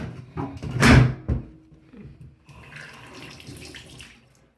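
Faint water trickling and dribbling into a Thetford 365 Porta Potti portable toilet, following a couple of loud knocks and clunks near the start.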